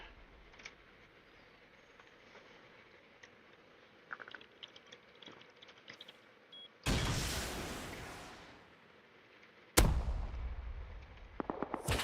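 Gunfire in GTA V Online Enhanced Edition on PC as barrels are shot, with two loud sharp bursts that decay into rumbling explosions, then a quieter stretch of clicks and game sounds before a third blast at the end.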